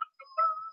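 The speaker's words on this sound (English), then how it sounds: "Oh, that's my phone. Hold on 1 second." A mobile phone rings indoors with a short electronic tone, a brief chirp followed by a sustained warbling note, heard alone without talk.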